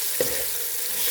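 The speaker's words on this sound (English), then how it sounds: "Just going to give them a stir, and there we go." Onions caramelizing in a pan sizzle steadily, with one brief scrape of a stir near the start and no voices.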